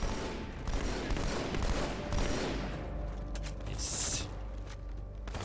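Halo 2 Anniversary gameplay gunfire, a rapid burst of weapon fire with mechanical clatter up close, then sparser shots and a short high electronic tone, with a voice speaking briefly.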